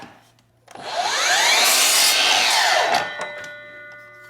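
A hand saw is used to trim the ends off a wooden piece in a coach-building shop, a single loud, sustained rasping stroke sequence that swells in and fades after a few seconds.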